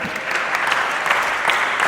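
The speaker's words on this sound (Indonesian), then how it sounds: "Tepuk tangan dulu untuk Frater." A congregation at a church recollection gathering claps together in a brief burst of dense, steady applause, close and even throughout.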